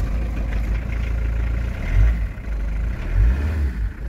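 A camper van engine starts up after preheating and settles into a steady, close rumbling idle, with two brief revs surging over the drone.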